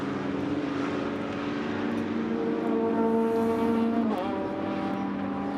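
Race cars lapping the Nürburgring during a VLN endurance race, with a steady engine drone that holds throughout and a pitch shift near the end as a Porsche slows into the pits.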